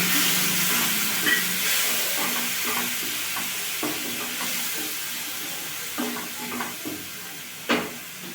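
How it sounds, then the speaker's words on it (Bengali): Bitter gourd frying in a pan for a karela and prawn dish, giving a steady close sizzle, with stirring scrapes and a few louder clatters scattered through and no talking. "করলাটা ভাজতে ভাজতে সেদ্ধ হয়ে গেছে।"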